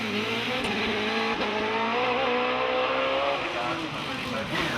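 A British Hillclimb Championship race car climbing the course, its engine droning steadily and revving through the gears, loud and sustained throughout with a commentator talking over it.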